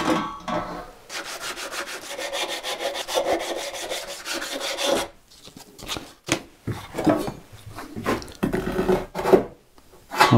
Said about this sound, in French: Peut-être que je ponce un peu à l'intérieur.